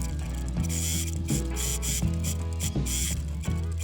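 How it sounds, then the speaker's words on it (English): Sewing machine running a double top stitch on a jumpsuit pocket, a continuous fast mechanical rattle with rhythmic ticking, close and steady with brief pauses, no talking. "Pin it and sew it. I'm making a double top stitch."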